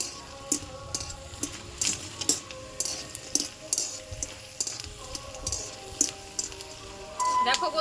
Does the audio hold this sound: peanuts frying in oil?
yes